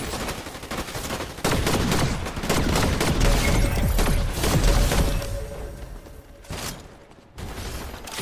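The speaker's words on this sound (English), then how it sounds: "A lot of gunshots going on over there." Rapid gunfire from a first-person shooter video game, with an automatic Spire rifle in play: dense, sustained bursts of shots and distant volleys overlapping with near reports, loud throughout and briefly thinning before resuming.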